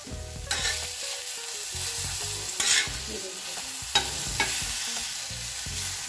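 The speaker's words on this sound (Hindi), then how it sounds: "भाजी को थोड़ा सा गर्म करते हैं बटर के साथ।" Pav bhaji being heated with butter in a pan sizzles steadily, with a spatula stirring and scraping close by and a few sharper clanks against the pan, and no voices.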